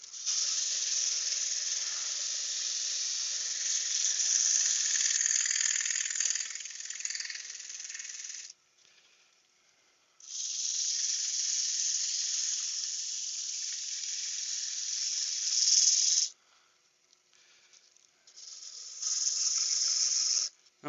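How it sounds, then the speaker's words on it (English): A banksia nut bud vase is sanded on a wood lathe, giving a loud, steady hissing abrasion in three long passes separated by brief pauses, with no talking. "Get this sanded up now."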